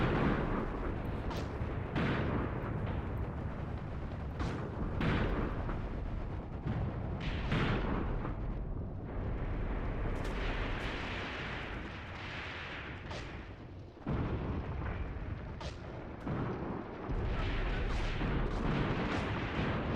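Soviet WW2 artillery fire and shell explosions on a video game battlefield, with heavy booms and blasts rolling in one after another for the whole stretch, loud and dense with no pauses.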